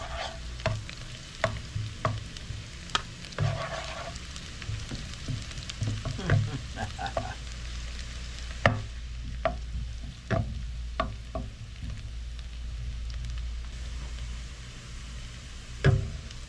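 Garlic fries in a pan and is stirred, giving a steady sizzle broken by irregular scrapes and clicks from a utensil, close by and with no speech.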